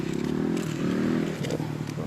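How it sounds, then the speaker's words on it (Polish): A motorcycle rides along a town street in Ryn, Poland, its engine droning steadily and loudly nearby with rattling, crackling texture as it passes. "Znowu motor jedzie"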